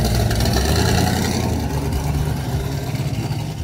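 A 1965 Ford Mustang with a 408 stroker V8 making 600 horsepower idles with a lumpy, uneven, choppy low throb, rumbling, steady and close, with no voices.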